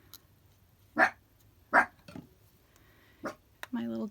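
A small dog gives a few short, sharp barks spaced apart, fairly close, followed by a brief whine.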